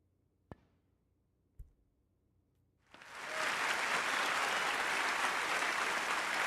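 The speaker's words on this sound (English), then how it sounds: "Does that clap because it was a good shot or because we've got enough points?" Crowd applause from the Snooker 19 video game at the Indian Open, breaking out suddenly after two sharp clicks of balls and holding loud and steady to the end.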